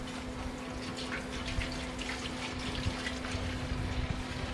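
Liquid trickles and splashes steadily beside a faint constant hum as apple cider vinegar is poured into a steaming pot for blue crabs; close, soft and continuous, with no talk.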